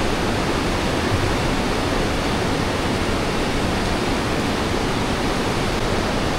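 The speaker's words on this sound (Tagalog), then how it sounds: "Kikita mo yung isa siyang kuweba pero dinadaluyan ng tubig oh." Water flowing through a cave at a large dam site in the Philippines, a dense, steady rushing roar that fills the whole clip without a break.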